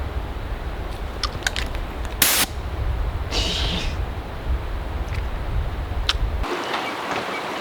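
Outdoors, a handheld spray canister rated to shoot up to 30 feet is triggered, giving a short sharp pop and then a brief pressurized hiss over loud, steady background rumble.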